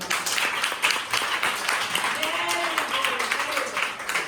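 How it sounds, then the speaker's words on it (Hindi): Children clap together in a classroom, a steady patter of many hands over several seconds, with voices talking underneath the clapping. "ताली बजाओ।"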